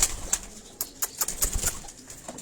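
Rooftop pigeons in Karachi's Defence area make a string of short wing claps and flutters, close and fairly loud, with faint low cooing between them and no talk.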